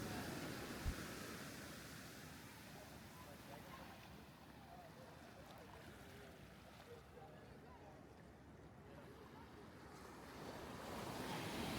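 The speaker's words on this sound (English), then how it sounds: "I sat there, watched the ocean, people, and let the sound of the waves do its things." Ocean waves at Clifton beach in Cape Town wash in a steady, broad rush, with wind buffeting the microphone and faint activity from people in the background.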